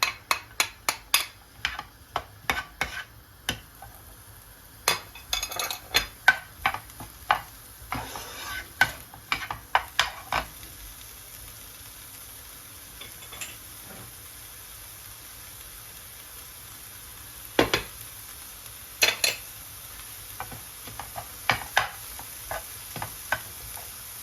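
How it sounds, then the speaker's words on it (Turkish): Onions stirred into melted butter in a pan, a series of sharp spoon-on-pan clicks and scrapes in quick bursts over a soft steady sizzle, with a quieter gap midway before the stirring resumes. "Tereyağımı tavama alıyorum. Ve soğanlarımı da ekliyorum."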